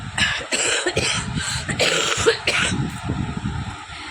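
A person sick with fever and body aches coughs several times in quick, harsh bursts close to the listener, each separated by a short pause.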